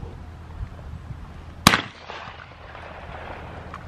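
A single loud, sharp shotgun blast from an outdoor clay-shooting range in a city training ground cracks out mid-clip, with a short tail and quiet ambient noise around it.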